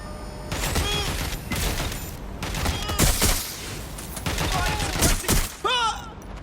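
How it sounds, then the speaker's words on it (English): Rapid volleys of gunfire in the video game Watch Dogs Legion, loud and close, coming in repeated bursts with ricochet-like whines and some mechanical clatter. "Suspect has opened fire!"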